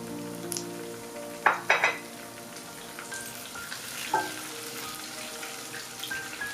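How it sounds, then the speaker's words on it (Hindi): Fresh coriander sizzles softly in a pan while cooking sarson ka saag, a low steady frying hiss broken by a few short clinks and scrapes of stirring, with no one talking. "ये देखें, सब्ज़ धनिया हमारा फ्राई हो रहा है, अभी थोड़ा सॉफ्ट है।"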